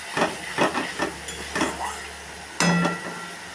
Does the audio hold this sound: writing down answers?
no